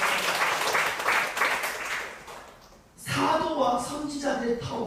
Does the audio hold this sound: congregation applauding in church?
yes